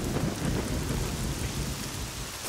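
Heavy rain with thunder in an alpine valley of Val Ferret, Switzerland: a dense, steady roar of rainfall with rumbling thunder mixed in, loud and continuous with no voices.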